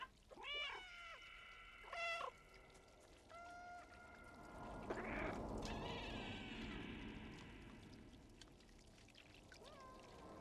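A cat character in a video game gives several distinct meows, bright and tonal, over a flowing, pouring water sound that swells midway and carries on to the end, no talking.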